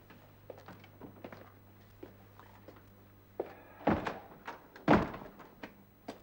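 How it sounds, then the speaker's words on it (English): An outer office door pushed shut in a period drama, a few soft footsteps and taps building to two heavy wooden thunks, close by in a quiet room. "Simpson, shut the outer door."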